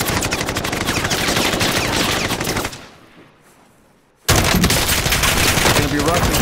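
Rapid automatic gunfire in Call of Duty: Modern Warfare, loud and dense bursts that cut out to near silence for about a second and a half, then resume just as heavily.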